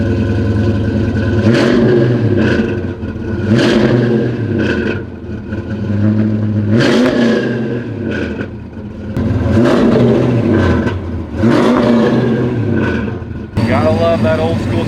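A 1993 Ford Mustang Cobra with a V1 supercharger and intercooler revs repeatedly in loud, close bursts, the engine rising and falling roughly every two seconds with supercharger whine riding over the exhaust.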